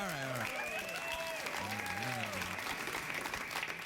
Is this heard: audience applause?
yes